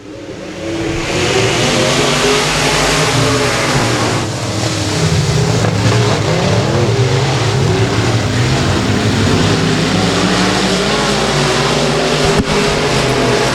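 Loud roaring engines of Pro Mod race cars accelerating together in a heat race on a dirt speedway, a dense continuous growl rising and blending, heard from near the track with no talk.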